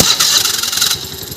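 A Honda Activa scooter is started on its self-starter, giving a short, close whirring crank that quickly settles into a rapid, even idle.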